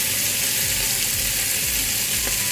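Chopped onion and tomato frying in oil for shakshuka, a steady close sizzle with a few soft scrapes as the pan is stirred, no voices.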